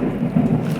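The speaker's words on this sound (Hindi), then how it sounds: "बादल एकदम गरज रहा है अच्छा खासा।" Thunder rumbling ahead of rain, a loud, deep continuous roll of low rumble that fills the whole short moment without any voice.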